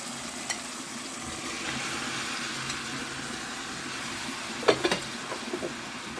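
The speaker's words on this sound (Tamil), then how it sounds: "இதை வந்து நம்ம குடலை போட்டுக்குவோம்" Goat intestines for South Indian boti curry hit cooked masala in a pan, a soft, steady sizzle with a burst of spoon clatter and scraping midway, heard alone and fairly quietly.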